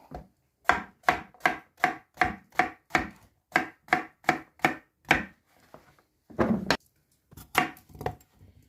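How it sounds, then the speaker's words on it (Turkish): Striped eggplant cut with a knife on a board, a steady run of about a dozen crisp, close chops, a short pause, then a few more cuts. "Pijamalı patlıcanlarımızı bu büyüklükte doğruyoruz"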